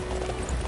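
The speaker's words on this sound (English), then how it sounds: "I'm just gonna ride a horse into the town," Quick clip-clop of horse hooves galloping in the video game Dynasty Warriors 9, a brief, steady, rapid beat heard alone.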